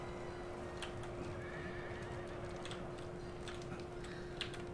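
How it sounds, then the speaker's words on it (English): Horses neighing amid a steady stream of hoofbeats and battle noise in Napoleon: Total War, with scattered whinnies rising over a constant background rumble and a persistent hum. "The horses are running because I let too many of these horses die."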